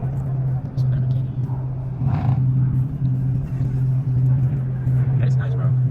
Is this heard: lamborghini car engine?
yes